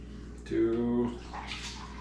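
Vinegar for a pickling brine pours in a faint, soft splashing stream that follows a brief voiced sound at moderate level.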